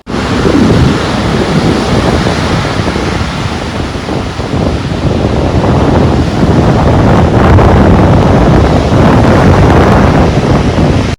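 Continuous roar of sea surf breaking and washing onto the shore at Kannanthura, Kerala, loud and close, with steady wind buffeting the microphone throughout.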